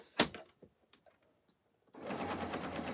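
After a few soft clicks and a brief pause, a sewing machine runs continuously and fairly loudly, stitching around the corner of a black and taupe placemat.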